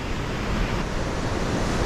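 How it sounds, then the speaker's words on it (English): Large ocean waves break on a beach on an evening with a north wind, a steady close roar of surf mixed with wind buffeting the microphone, with no talking. "There's some massive waves out here this evening."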